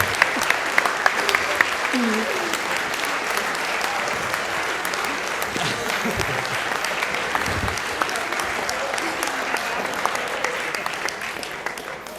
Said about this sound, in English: You're gonna have standing ovation.